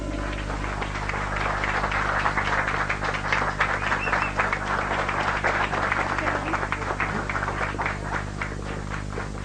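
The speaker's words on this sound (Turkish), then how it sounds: "Bir alkışlayalım." An audience at an evening gathering gives dense, sustained applause to welcome a guest singer about to perform a Turkish folk song. The clapping is full and continuous for around nine seconds, with a faint crowd murmur underneath.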